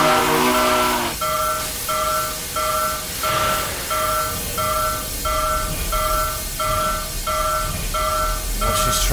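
A Daylight 4449 steam locomotive pulls out of Hollister in Train Simulator, its horn sounding once before a steady, evenly spaced chuffing settles in over a continuous rumble of rolling wheels.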